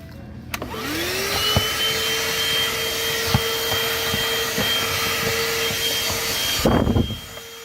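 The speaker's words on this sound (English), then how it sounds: "This, you can brush your seats with it, suck all the stuff out from in between the cracks." A THISWORX portable handheld car vacuum cleaner switches on and runs at a steady whine for about six seconds, close and loud, then cuts off, with small knocks of the nozzle against car seats along the way.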